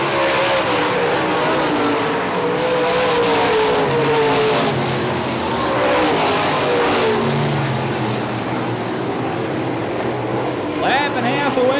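UMP late model race cars racing at Hartford Speedway, loud engines rising and falling in pitch as they pass on the dirt oval, with a race commentator talking over the continuous roar.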